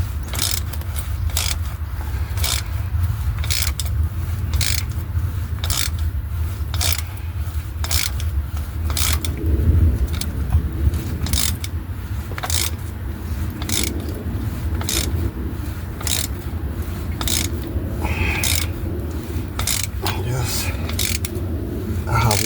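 Ratchet wrench clicking steadily while tightening transmission-to-engine bolts on a 2009 Dodge Journey, a regular run of sharp clicks in a quiet garage with no voices.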